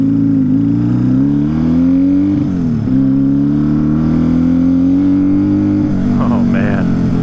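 A Honda Dream motorcycle engine runs steadily up close, a loud, even hum with a gently rising pitch, a brief dip and recovery midway, and a slight rev near the end.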